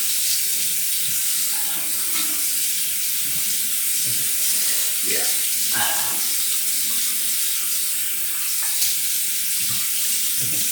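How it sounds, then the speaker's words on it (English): A bathroom tap runs steadily for rinsing after a wet shave, a continuous close hiss of flowing water with faint splashes and knocks as hands and face are rinsed. "Let me rinse up."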